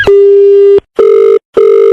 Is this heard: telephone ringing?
yes